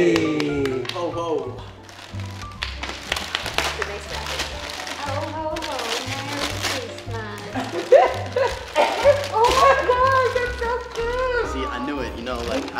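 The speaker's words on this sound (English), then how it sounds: "Lucas and Yvonne's dog, Blue. Which is going crazy back there." A dog barks excitedly in the background at a family gathering where presents are exchanged. The barks come in repeated bursts under frequent talking and other household noise.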